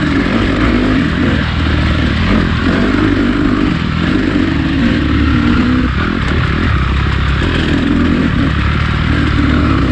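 A KTM 300 two-stroke dirt bike ridden over rough terrain, its engine a loud, continuous raspy drone with slight rises and dips in revs throughout, close and unbroken.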